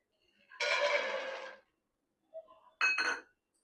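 A cooking pot is set on the stove with metallic clatter: a sustained scraping clank, a small tap, then a sharp double clunk, close and fairly quiet.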